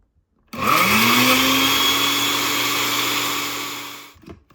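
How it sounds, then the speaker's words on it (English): A kitchen blender purees cubed, peeled and seeded melon into liquid, starting abruptly and running loud and steady for several seconds with a rising motor whine, then winding down and cutting off. "blender this down into liquid mush"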